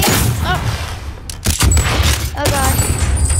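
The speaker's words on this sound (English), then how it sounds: "Oh no, grenade!" A grenade blast in the Call of Duty video game, heard as loud, booming bursts of gunfire-like noise amid continuous in-game battle sounds.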